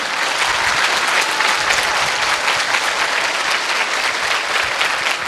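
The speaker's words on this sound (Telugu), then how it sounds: "తల్లికి కదా, గట్టి కొట్టమా చప్పట్లు" Steady, dense applause from a large college audience at a motivational speech, loud and sustained for several seconds with no voices over it.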